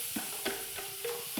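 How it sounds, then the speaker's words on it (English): Flour is stirred into hot oil for a Louisiana gumbo roux, producing a soft steady sizzle broken by several quick scraping strokes of the whisk, close and without talk. "As soon as we add the flour, we're gonna start stirring."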